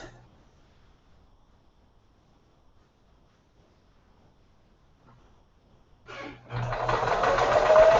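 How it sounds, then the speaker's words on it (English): A sewing machine stitches interfacing for a Memorial Day quilt. It is quiet at first and then starts up near the end as a loud, steady whir that keeps running to the last moment. "now I'm sewing it"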